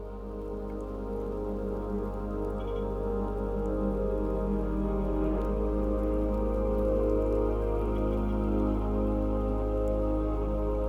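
Steady rain falling in Valparai during a cool 14°C spell, a continuous dense patter on surfaces that stays even and fairly loud throughout, with no voices.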